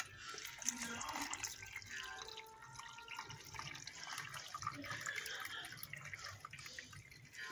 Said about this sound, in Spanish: Le vamos a agregar el agua que tenemos aquí.